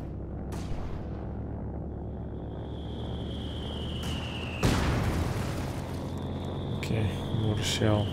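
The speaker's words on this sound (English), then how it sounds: "Okay, mortar shell." A mortar shell explosion in Company of Heroes 2 during a 2v2 match: one heavy, sudden boom bursts out midway over a steady bed of battle ambience and whistling tones, followed by further smaller impacts.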